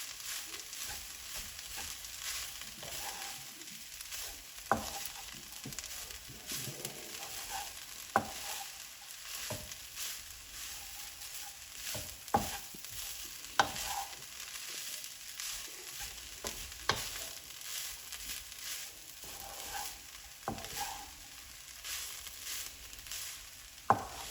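Chicken samosa filling sizzles and fries in a pan, with a spoon stirring and scraping through it at irregular intervals; a steady close hiss underneath and no one speaking.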